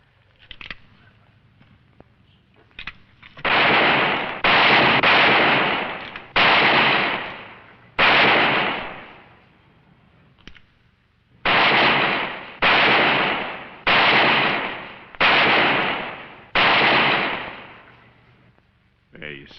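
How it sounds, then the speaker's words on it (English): Nine loud, sharp revolver gunshots ring out at tin cans in a Western, coming in two quick volleys of four and five with short gaps between them. Each crack fades out with a long, booming tail. "Well, that's real fine shooting, Mr. Allison."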